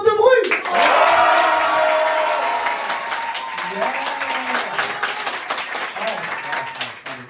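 A comedy club crowd bursts into loud applause and cheering, a strong burst at the start that settles into sustained clapping with shouts and voices mixed in.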